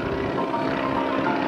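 A Stearman PT-17 biplane's radial engine drones steadily and loudly as it climbs toward a stall during an air show at Naval Air Station Oceana, the sound broad and continuous without talk.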